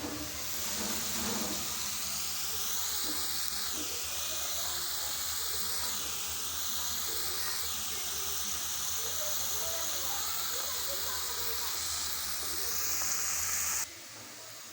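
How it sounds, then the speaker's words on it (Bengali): Grated carrots frying in about 200 grams of ghee for gajar halwa give a loud, steady sizzling hiss that runs close and unbroken, then drops away abruptly in the final second. "এখন ফ্রাই করছি ভালো করে লাল করে ফ্রাই করে তারপর দুধটা ঢেলে দিব"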